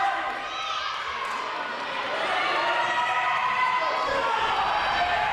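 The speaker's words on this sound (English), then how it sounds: "The crowd cheering him on." Arena crowd at a UNX championship event, a sustained roar of cheering and shouting that rises slightly midway and stays loud and dense throughout, with no clear individual voices standing out.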